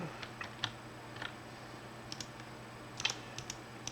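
Quiet clicks of typing on a computer keyboard come in irregular bursts of keystrokes against a soft background hum, with no one talking.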